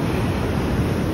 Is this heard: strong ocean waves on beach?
yes